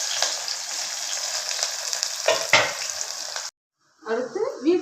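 Onions and green chillies sizzle and fry steadily in a pan for a kuska rice dish, with a couple of stirring scrapes before a sudden stop, then a brief softer clatter of kitchen sounds.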